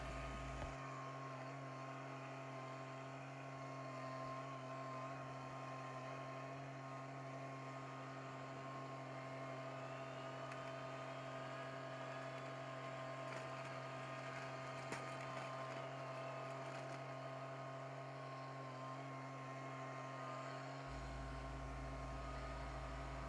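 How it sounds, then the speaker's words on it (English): John Deere 1025r compact tractor plowing snow with a quick-hitch plow, engine held at high RPM in high gear with a steady, droning whine that continues unbroken throughout, nearby, with no talking. "I like the higher RPM of the engine in high gear and have it floored."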